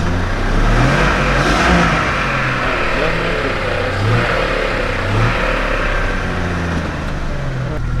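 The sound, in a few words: car engine running in gear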